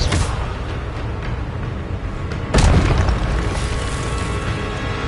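The Expelliarmus disarming spell going off in the Hogwarts Legacy video game, a steady loud rumbling wash punctuated by a sharp booming hit midway, with the roar continuing afterward.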